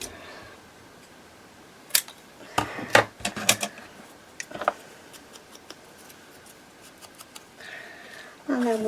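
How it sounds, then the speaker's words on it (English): Decorative edge scissors snip paper in a few short, crisp cuts spread across the stretch, with quiet pauses and faint background between them. "let's just cut that in half. I'm just going to use my decal edge scissors"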